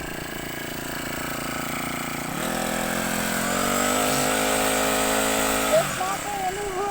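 A string trimmer with a bump-feed head whirs steadily in the grass, and its engine pitch rises and wavers as the head spins and is bumped to let out more cord. Voices speak in the background.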